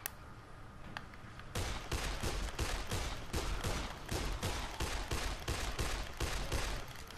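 Rapid gunfire in the zombie video game Dead Island: after a quieter opening with one sharp crack, a steady run of loud, evenly spaced shots fills the rest of the clip, close and dominant.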